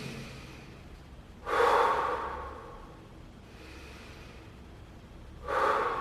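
Slow breaths during a stretching exercise: two separate, close breathing sounds, each a soft rush of air that fades out, with quiet pauses between them.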